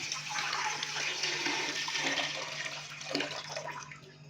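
Water pours steadily into a pressure cooker pot for Bannu beef pulao, a continuous close splashing gush that lasts the whole stretch with no talking.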